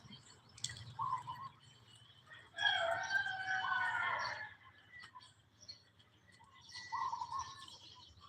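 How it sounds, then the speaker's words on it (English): Cockerels crow in the Philippines in several separate bursts at mid distance outdoors. Quieter chirps and a low background hum fill the gaps between calls. "the sound of the cockerels"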